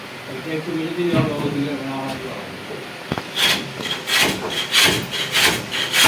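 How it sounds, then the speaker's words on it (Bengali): Wooden bed boards for a hydraulic box bed are rubbed smooth by hand, producing close, rhythmic rasping strokes; someone talks at the start before the scraping takes over. "বোর্ডগুলো একটু ঘষে নেওয়া হচ্ছে"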